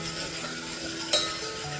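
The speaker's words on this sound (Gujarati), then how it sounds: "લસણને થોડું લાઇટ બ્રાઉન કલર થાય ત્યાં સુધી આપણે સોતે કરશું" Garlic sautéing in a pan until light brown, a steady soft sizzle and frying hiss with a brief louder stir or scrape near the middle, close and without talk.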